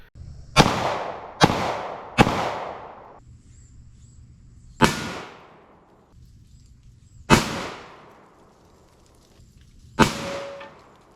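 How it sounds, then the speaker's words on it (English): Six sharp 9mm Browning Hi-Power pistol shots fired at the armour of a Ferret scout car, each a loud crack with a decaying tail, three in quick succession, then three more spaced out. "Our UPA soldier will be using the Browning high-power pistol. The BHP fires the 9x19mm Parabellum round."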